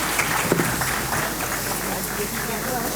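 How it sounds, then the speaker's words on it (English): An audience applauds the founder chairman of the IGN MUN organization at an Indira Gandhi National Model United Nations event, a steady wash of clapping with a voice speaking over it. "Please give a huge round of applause"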